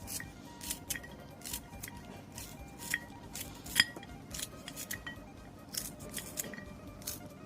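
Peeled young bamboo shoots are chopped into short sections in a Thai home kitchen, giving a run of faint, sharp, irregular knife strokes against a board with light clattering between them.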